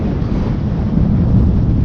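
Wind blowing across the untouched sand dunes of the Sahara in Mauritania, a constant rough low rumble buffeting the microphone with no other sounds.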